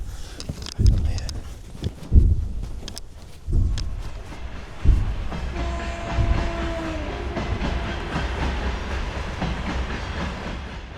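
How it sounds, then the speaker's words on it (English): A train rumbles past nearby with heavy rhythmic clunks and rattling wheels, followed by a sustained screech as the cars roll by. "it's just another train"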